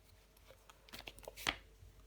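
Tarot cards being shuffled and handled, a soft quick flurry of papery flicks and taps lasting about a second, faint and close.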